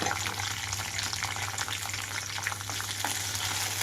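Red chillies frying in hot oil over a medium flame for a dosa chutney, producing a dense, continuous crackling sizzle close by with a low steady hum underneath and no voices.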